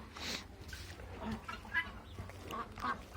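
Ducks quack in short bursts, several calls scattered across a few seconds over a low rumble of outdoor background noise.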